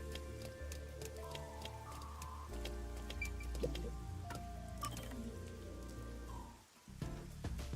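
Rain in the video game Rain Code patters steadily across surfaces, a dense, moderate wash of drops with scattered sharper ticks, briefly dropping out near the end before resuming.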